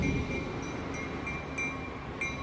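Train at a New Hampshire railway station and museum: a steady, distant rumble of rolling rail cars with a faint tonal hum and occasional soft metallic clicks, continuous throughout and without speech.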